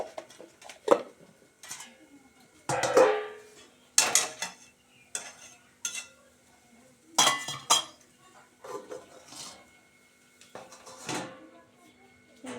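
A metal lid set onto a pot of boiling potatoes in a home kitchen, with clinks and clatters of cookware and utensils in irregular bursts, alongside other kitchen handling noises.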